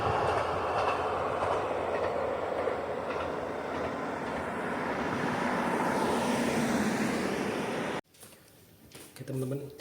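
A single-car train passes through a Japanese farming village, a loud sustained rumble with wheel clatter that cuts off abruptly to quieter outdoor ambience, with a voice briefly audible afterward.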